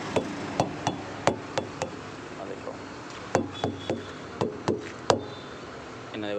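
Truck tyres struck with a tool to check air pressure, giving a series of sharp, hollow thuds in small irregular bursts, fairly close, with some background talk.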